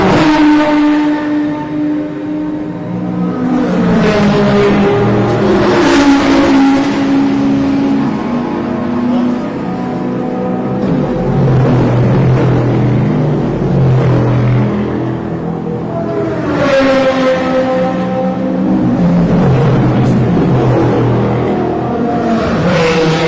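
Race cars including a Lamborghini and a Chevron V26 scream past at speed, engines rising and falling in pitch through gear changes, loud and close, one after another.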